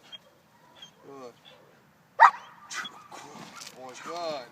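A young protection dog yips, whimpers and gives a sharp bark during bite training, close by, mixed with a handler's voice talking.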